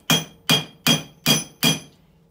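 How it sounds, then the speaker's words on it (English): Five sharp metallic hammer strikes at a steady, even rhythm, close and fairly loud: the flat face of a ball peen hammer pounding a rivet while fitting a new rowel on a spur. "for the first few licks, I use the flat side of a ball peen hammer"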